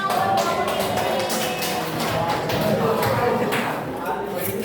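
Classroom applause, a steady patter of many hands clapping at close range with some voices mixed underneath, continuing evenly for several seconds.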